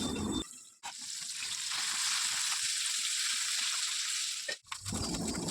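Ribbon fish pieces coated in rice flour frying in a pan give off a steady, close hiss of sizzling oil that holds for several seconds with brief dips, no voices present.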